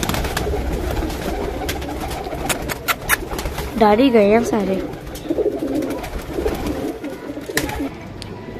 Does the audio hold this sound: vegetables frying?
no